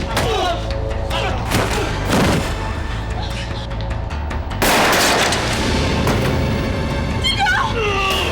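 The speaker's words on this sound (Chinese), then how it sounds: "是恁要走，是恁逼我开枪啊！" Gunshots ring out in a dramatic scene, a few loud, sharp bangs cutting through a dense bed of sound with voices around them.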